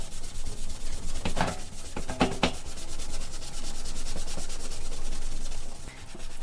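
Acetone-soaked steel wool scrubbing paint off a Sunbeam T-20b toaster, a close, rough rasping rub that repeats in uneven strokes with a few sharper scrapes, alone without speech.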